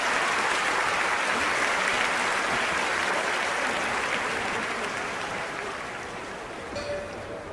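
A stadium crowd in a London 2012 Olympics video game claps steadily, a dense wash of applause that holds loud before slowly tapering off toward the end.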